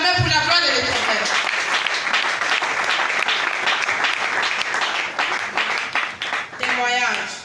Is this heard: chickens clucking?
no